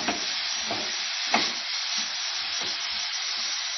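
A spoon steadily scrapes and stirs moist grated coconut filling for modak in a pan, with a continuous soft, gritty rasp and faint sizzle and rhythmic strokes, close and alone.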